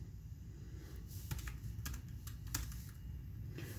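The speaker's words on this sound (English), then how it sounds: "so we're just going to jump in straight into it and see how bad or good this is actually going to wind up being" Typing on the keyboard of a GPD P2 Max small laptop, with quick, light, close key clicks in an uneven rhythm over a quiet background.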